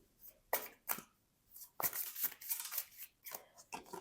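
Oracle cards are shuffled and drawn with crisp, quiet snaps and flicks arriving in irregular bursts against near silence.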